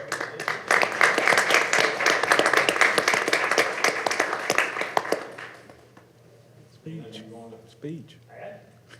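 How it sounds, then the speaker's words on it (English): Audience applause fills a city council meeting chamber, dense clapping for about five seconds before tapering off, followed by a brief spoken voice. "These ladies, a round of applause, please."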